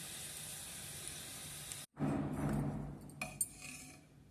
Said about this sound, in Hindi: ये लहसुन का तड़का बना रही हूँ